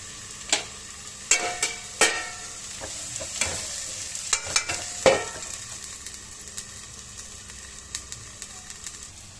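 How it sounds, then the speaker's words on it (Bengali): Onion and tomato frying in a pan, a steady sizzle beneath sharp spoon knocks and scrapes that come in clusters early and thin out later, close and clear, no talking. "এই যে এখন আমি পেঁয়াজ টমেটোটা ভেজে নিয়েছি"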